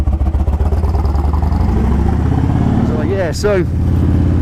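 A Harley-Davidson Dyna FLD motorcycle on an English countryside road, its V-twin engine giving a steady low, loping rumble that stays loud and close. Someone talks briefly over it near the end.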